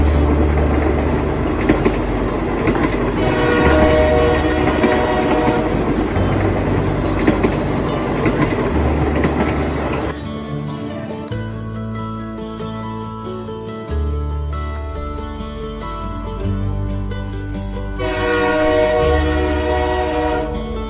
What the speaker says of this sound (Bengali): আমাদের ট্রেন চলে এসছে দমদম স্টেশনে